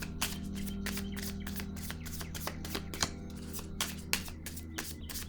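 Cards rustle and snap against each other in a rapid run of crisp flicks while one is drawn from a deck, close and moderately loud, with occasional light taps.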